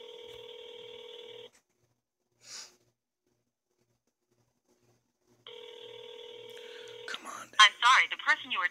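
Outgoing call ringing out on a new iPhone, two long steady ring tones separated by silence, followed by a voice starting up at the end.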